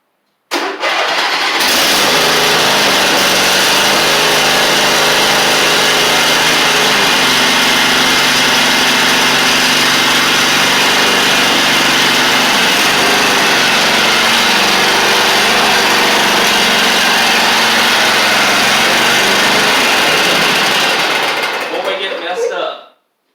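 A Huskee Supreme riding lawn mower engine fires up and runs loud and close at a steady, buzzing idle for about twenty seconds before cutting off abruptly.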